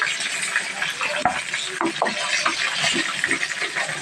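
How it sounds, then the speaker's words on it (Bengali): Chicken pieces fry together in a pan with a loud, dense sizzle nearby, with irregular crackles and a few stirring scrapes throughout. "তো আমি সবগুলো মুরগি একসাথে দিয়ে দিচ্ছি, সবগুলো একসাথেই ভাজা নেব।"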